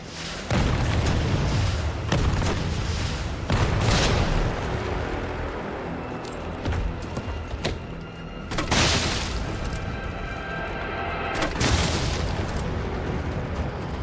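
Repeated heavy booms and blasts from rocket launcher fire in Resident Evil 3 Remake, loud and close, spaced irregularly across the fight over a rumbling, chaotic game background with no talk.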